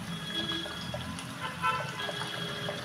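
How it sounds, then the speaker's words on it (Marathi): Hot water is poured into an onion and potato curry (kanda batata rassa) in a pot. It makes a steady, fairly soft liquid pour and splash that lasts about three seconds, with no voices. "आता गरम पाणी घालते."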